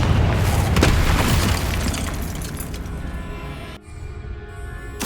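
A Confringo spell explodes in Hogwarts Legacy, a loud, dense boom that rumbles through most of the moment before cutting off abruptly, followed by lingering game ambience and a final thump.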